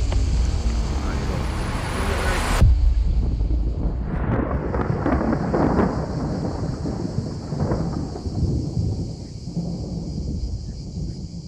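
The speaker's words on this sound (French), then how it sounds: "la pluie tombe et de plus en plus fort" Heavy rain pours steadily outdoors at a fishing spot by the water, a dense continuous hiss that fills the scene, with a sharp thump partway through and brief voices and movement sounds over the downpour.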